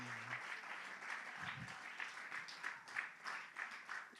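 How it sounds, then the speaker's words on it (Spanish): Church congregation applauding for the Lord during a sermon, a steady wash of many hands clapping at moderate distance, fairly even throughout with a low murmur of voices underneath. "Un aplauso al Señor fuerte."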